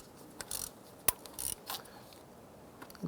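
A gear wrench ratchet snugs down an EGR valve bolt on a Chrysler 300, giving a few short, quiet bursts of clicking separated by pauses, with one sharp tick.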